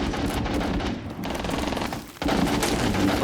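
Rapid automatic gunfire in the video game Rainbow Six Siege, a dense, loud, continuous stream of shots with a brief lull, then a renewed burst.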